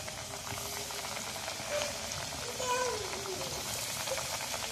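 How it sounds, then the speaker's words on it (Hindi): Egg and potato pieces fry in hot oil with a dense, even bubbling crackle that holds at a constant level nearby. "हमने सारे इसमें ऐड कर देने हैं और इसको फ्राई कर लेंगे।"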